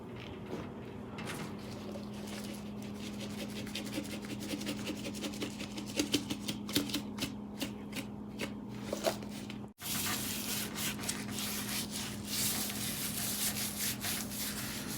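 Dry seasoning rub being worked by hand into St. Louis style pork ribs, a steady close-up rubbing and scraping texture with brief pauses, a short dropout near the middle, and no talking.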